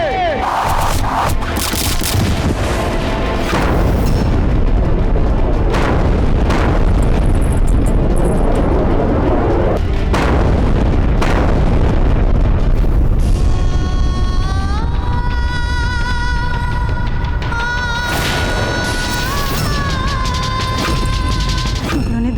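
A loud, dense din of gunfire, booms and crashes in a dramatized Rajput-Mughal fort battle, with shouting crowds throughout and sustained tonal wails rising in the second half.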